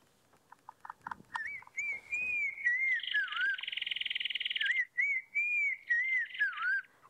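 Recorded call of a black-crowned tchagra: a series of loud, clear, melodious whistles, rising and falling in long sliding phrases, preceded by short chipping notes and a rapid rattling trill midway, with no talk.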